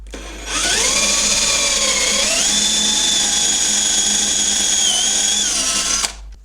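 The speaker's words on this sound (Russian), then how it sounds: "и сверлим" A power drill boring pocket holes in wood with a pocket hole jig whirs steadily for about five seconds, its pitch dipping slightly as it bites into the wood, then stops abruptly.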